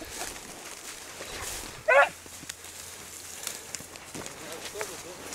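Out on a rabbit hunt, a hunting dog gives a single sharp bark at middle distance over a quiet outdoor background.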